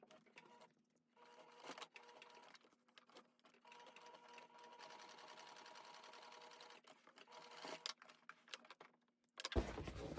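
Domestic sewing machine tacking the back straps of a pair of overalls in place, running in several short bursts and one longer sustained stretch, close and moderately loud, with a louder clatter at the end.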